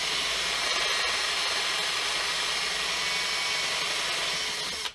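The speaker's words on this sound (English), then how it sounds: "I'm not drilling far enough to go out the other side" A power drill bores into a handmade guitar body, a continuous loud high-pitched whirring grind that holds steady and cuts off at the end.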